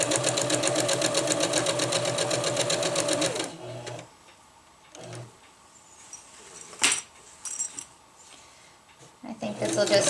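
Sewing machine running a seam on a zippered hammock bug net, a loud steady whir for a few seconds, then stopping; quiet handling noises and a few brief clicks follow before the motor briefly starts again.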